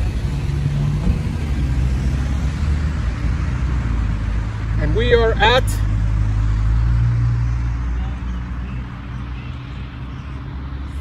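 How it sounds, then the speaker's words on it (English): Traffic on a busy roadway rumbles steadily in the background, with cars passing continuously at moderate distance while someone speaks briefly over it. "I'm sorry for the traffic. My in-laws live on a busy roadway here."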